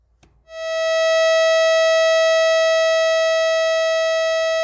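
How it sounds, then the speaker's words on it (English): A subtractive synthesizer note with a long release, a bright buzzy tone rich in harmonics that swells in after a click, holds loud and steady, then begins to slowly fade. "now when I release my finger, the sound is gonna slowly fade down to nothing."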